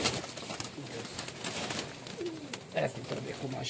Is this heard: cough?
no